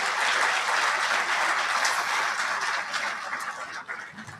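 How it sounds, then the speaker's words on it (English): Applause for the head table at an awards dinner, a full room clapping loudly and evenly before it thins and tapers off near the end. "Round of applause for our head table"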